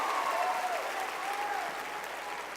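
An audience at a motivational talk breaks into steady, sustained clapping that fills the room evenly, with a few faint whistles riding over it as it gradually eases off.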